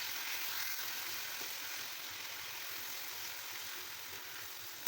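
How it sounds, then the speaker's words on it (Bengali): Onion frying in a pan with a spoonful of ginger-garlic paste and green chili paste, giving a steady, even sizzle that holds close and unbroken for the whole stretch, with no talking. "এখন দিয়ে দিব 1 চামচ পরিমাণ আদা ও রসুন বাটা, দিয়ে দিব কাঁচামরিচ পেস্ট। এটাকে ভালো করে ভেজে নিব।"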